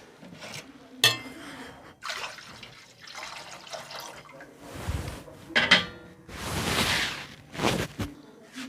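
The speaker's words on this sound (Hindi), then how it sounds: "पानी मैंने शामिल कर लिया" Water poured into a steamer pot in a home kitchen while steaming a goat leg (mutton raan), heard as several bursts of splashing and running liquid, fairly close, with short pauses between pours.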